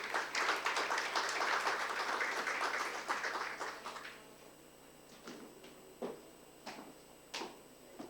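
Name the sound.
audience applause welcoming a speaker on stage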